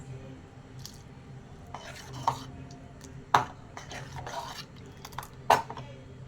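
Boiled sabudana (sago pearls) being stirred and mixed in a pot, with soft wet scraping and a few sharp clinks of a spoon against the pot, fairly quiet throughout.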